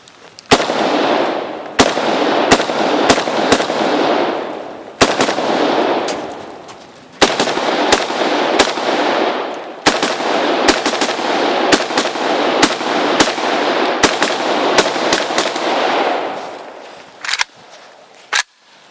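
An AK-74 rifle fires round after round outdoors, loud sharp reports coming in rapid bursts with brief pauses between strings, each shot leaving a bright ringing tail over a steady outdoor roar.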